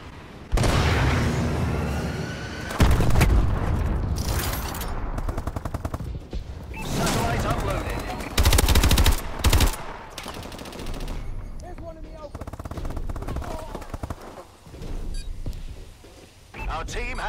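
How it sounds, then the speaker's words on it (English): Missile strikes and gunfire in the video game Call of Duty: Advanced Warfare: loud, repeated blasts and bursts of shooting that come in heavy waves, with a game voice speaking over the combat. "Friendly missile strikes incoming."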